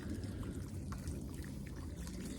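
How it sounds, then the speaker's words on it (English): Water with soluble plant feed poured from a watering can onto garden plants, a steady close trickling and splashing that continues without a break. "I'm going to give this a really good water"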